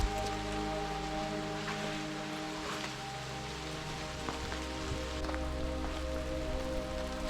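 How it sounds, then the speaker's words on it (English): Heavy, steady rain falling during a storm near an abandoned coast guard base in Latvia, a dense continuous hiss with a low rumble underneath and no talking. "Rain is getting stronger and stronger."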